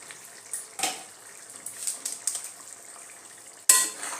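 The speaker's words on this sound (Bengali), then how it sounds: "এবার আমি ঢাকনাটা হাটিয়ে নেব।" A lid comes off a pot of simmering prawn curry with a sharp metallic clatter near the end, after quieter scrapes and light bubbling in a home kitchen.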